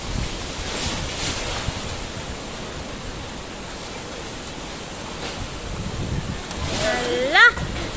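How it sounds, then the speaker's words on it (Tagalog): Strong wind sweeping across Dinagat Islands, a loud continuous roar of gusts buffeting the microphone, with a brief exclaiming voice near the end. "It's windy the rest of the day and for tonight."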